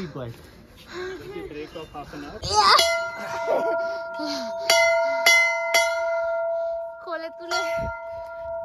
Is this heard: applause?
no